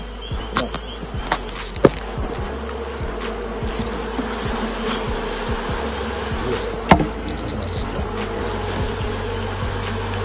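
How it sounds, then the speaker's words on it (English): A honeybee swarm fills the air with a dense, steady buzz, individual bees zipping close past now and then over the constant outdoor hum. "They're honeybees, right?"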